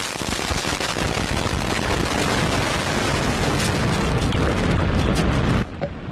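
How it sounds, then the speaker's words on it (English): An Antares NG-19 rocket lifts off from a flight facility with a loud, dense, continuous roar full of crackling rumble, holding steady before dropping off slightly at the end. "Lift off the Antares NG-19 launch vehicle off flight facility."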